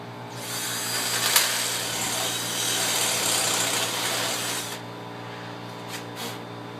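A power drill with a half-inch bit bores a hole for a press-in stud during a Land Rover 88-inch rebuild, a steady loud whirring grind lasting several seconds, then stopping abruptly with faint clicks after.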